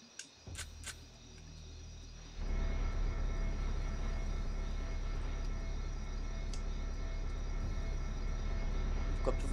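Helicopter in the video game Siphon Filter 3, a steady loud engine and rotor drone that rises sharply after a couple of seconds and then holds constant, with a few faint clicks at the start.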